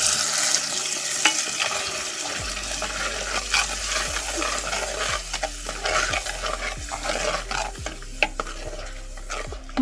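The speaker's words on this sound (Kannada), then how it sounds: "ಈ ಒಗ್ಗರಣೆಗೆ ರುಬ್ಬಿದ ಮಸಾಲಾನ ಹಾಕ್ಕೊಳ್ತಾ ಇದ್ದೇನೆ." Ground masala sizzles in a hot tempering with curry leaves for a wild fig gravy, stirred with repeated scraping and light clinks against the pan over a steady frying hiss, up close and with no voices.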